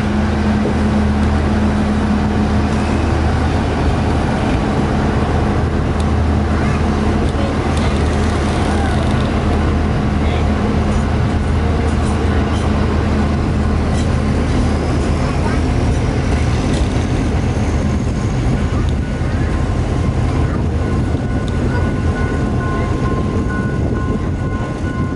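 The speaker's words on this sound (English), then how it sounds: "The East Coast Shuttle departed Tumpat Railway Station on time at 2 p.m." East Coast Shuttle train pulling out of Tumpat Railway Station in Malaysia, a steady loud low rumble and drone of engine and rolling wheels lasting throughout, with faint voices mixed in.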